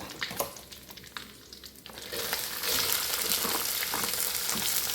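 Chopped cabbage, onion and purple thoran vegetables hit a pan of hot oil with crackled mustard seeds, rice and urad dal. A quieter scrape gives way to a loud, continuous, close sizzle as the vegetables are stirred.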